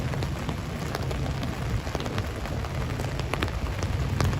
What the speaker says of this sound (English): Very rainy night.